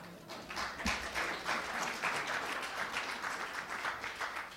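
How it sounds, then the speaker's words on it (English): Audience applause fills a luncheon hall at a press club speech on foreign policy, a steady broad wash of many hands clapping that holds evenly for several seconds with no talk over it. "You can clap."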